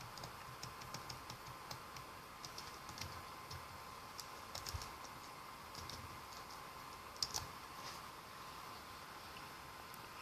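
Steady typing on a computer keyboard, quick light key clicks with an occasional louder tap, no voices.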